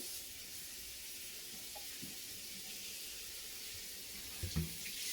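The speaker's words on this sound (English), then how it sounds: "So you will hear some water running." Water runs steadily from a tap into a sink while a synthetic wig is rinsed, with a constant broad hiss and a few faint clinks near the end.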